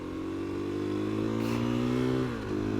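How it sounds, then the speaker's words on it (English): A 2020 KTM 350 EXC-F dirt bike engine pulls steadily while riding, its tone climbing, then dropping briefly as a gear shift cuts in near the end before it pulls again, up close and alone. "It does have that same draw of a lower CC motorcycle where you're shifting up through the gears a lot."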